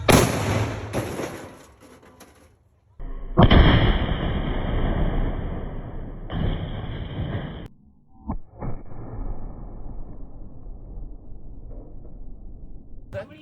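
A real Civil War cannon fires outdoors: a sharp, loud blast followed by a long rolling boom that decays, then a second report and lingering echo, with faint crowd noise around it.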